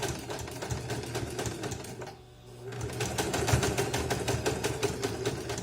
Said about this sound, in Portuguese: Costurei na máquina mesmo, né?